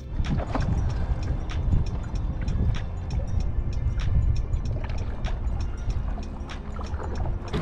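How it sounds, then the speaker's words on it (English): Rented canoe paddled on Suttle Lake in Oregon, with steady wind and water noise broken by repeated light knocks and splashes of paddle strokes against the hull, close and moderately loud. "we rented a canoe for an hour and paddled around the lake"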